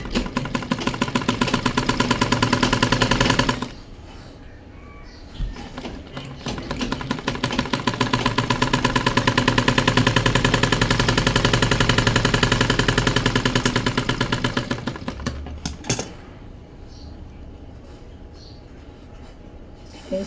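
Sewing machine stitching the side seam of a blouse, a fast even mechanical chatter in long runs that stops briefly near the start and again near the end, with no talking.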